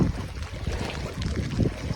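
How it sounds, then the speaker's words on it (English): Dinghy bobbing on hurricane storm-surge floodwater in a flooded canal, heard as a steady, fairly close wash of choppy water and wind with no talking. "Dinghy's bobbing around."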